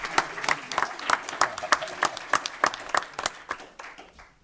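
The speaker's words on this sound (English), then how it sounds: "let's give her a round of applause" Scattered applause at a school district board meeting, a modest group clapping in distinct, fairly regular claps that rise and fall, moderately distant in a room, and thinning out toward the end.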